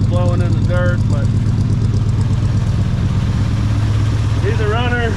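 A 1980 Chevy C30 dually with a glass pack exhaust that is falling off idles with a steady, loud low rumble and clatter, while voices talk over it at the start and end.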